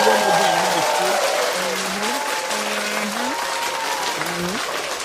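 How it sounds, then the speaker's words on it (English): A boxing show audience applauding in a dense, sustained burst of clapping that fades slightly over time, while a voice talks over it. "Clap it up one more time"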